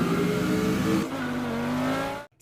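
A race car accelerates hard, its engine note climbing through a gear change with a strained, rising whine, loud and close, before cutting off abruptly.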